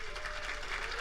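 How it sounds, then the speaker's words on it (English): A packed audience at the Music Box Supper Club in Cleveland breaks into a steady, dense round of applause, close and sustained with no voices standing out, after a talk on Cleveland rock and roll. "A big round of applause on that one."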